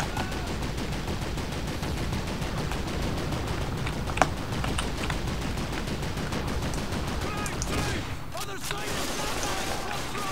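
Call of Duty 2 battlefield gunfire: steady rapid machine-gun rattle running throughout, with a sharper single shot near the middle and a louder burst of combat noise toward the end, dense and fairly loud.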